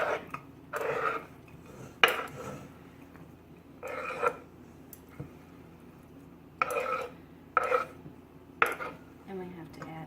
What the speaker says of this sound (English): I'm going to transfer this to another pot